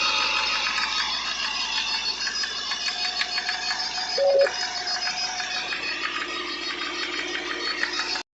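A Hyundai i10 Grand engine with a misfire idles close by, a steady mechanical drone carrying fine rapid ticking and knocking, with a brief tonal squeal midway before it cuts off.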